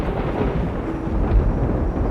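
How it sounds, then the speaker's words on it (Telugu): A deep, rumbling thunder effect rolls steadily and loudly for about two seconds, with no voices. "అప్పుడు డుమ్మని ఉరుములు,"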